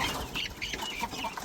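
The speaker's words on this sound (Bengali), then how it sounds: "এই যে আমাদের তিতির মুরগির বাচ্চাগুলো তো এখন বড় হয়ে গেছে, অনেক লাফালাফি করে" Guinea fowl chicks grown large on a farm cluck and chirp in a busy, overlapping flock, close and fairly clear with no talking.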